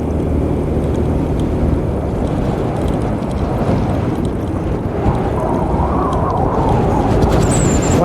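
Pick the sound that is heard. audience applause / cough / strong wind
strong wind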